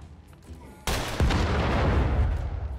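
A sudden loud blast in The Lamplighters League strategy game, a sharp boom that cuts in abruptly and leaves a sustained roaring rumble, following a quiet stretch.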